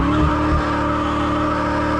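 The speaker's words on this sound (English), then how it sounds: "a line lock feature that applies only the front brakes, so you can turn the rear tires into smoke very easily" Loud, continuous roar of a 2023 Dodge Challenger engine during a burnout, rear tires squealing hard, a steady high-pitched screech filling the whole moment.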